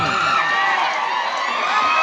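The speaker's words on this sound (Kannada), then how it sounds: "ಬರಲಿ ಒಂದ್ಸರಿ ಜೋರ ಚಪ್ಪಾಳೆ" A crowd at a lively gathering claps and cheers in a dense, continuous wash of noise, with voices shouting and talking mixed in throughout.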